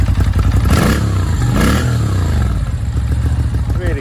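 Moto Guzzi V7 II Special 750 motorcycle from 2015 revved through its exhaust pipes, several quick throttle blips rising and falling over a loud idling rumble, close up.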